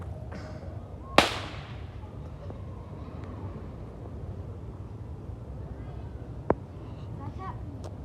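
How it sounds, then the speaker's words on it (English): Mini snapper fireworks go off outdoors with people around. There is one sharp, loud crack early, then a long quiet stretch of faint background ambience, and a second, thinner snap near the end. "Firework."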